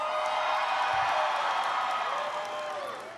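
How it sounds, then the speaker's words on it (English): Audience applause at a university commencement, a steady wash of clapping from a large crowd that slowly fades toward the end. "You were supposed to hold your applause."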